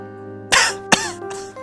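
A person coughs twice, close and loud, the second cough short and sharp, with a brief throat-clearing rasp trailing after and quiet background tones beneath.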